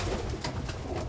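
Racing pigeons in a breeding loft, one fighting, give soft cooing and bird calls over a steady broadband background, close and continuous for about a second.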